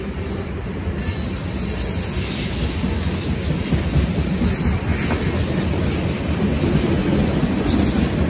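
A train rumbles past close by, a loud continuous roar of wheels and carriages that swells slightly toward the end.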